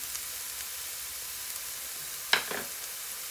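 Lardons hitting a hot pan for stuffed mushrooms, a quiet steady frying sizzle with a sudden louder burst as they go in near the end, then settling.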